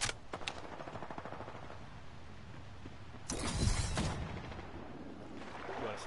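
Video game gunfire in a shooter match, rapid bursts of automatic shots with a sharp louder volley midway, crackling under steady game background noise.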